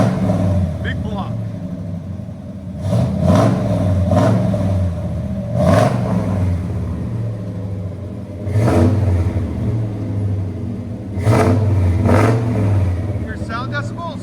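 A 454 big block V8 engine in a K2500 truck with headers and Flowmaster 40 Series exhaust idles with a deep rumble, then revs hard in repeated bursts, loud and close, with a few gaps between.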